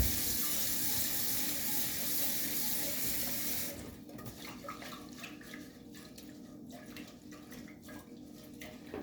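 Rice being rinsed under running kitchen tap water: a strong, steady gush of water for the first few seconds, then quieter splashing, swishing and dripping as the grains are handled, with no voices.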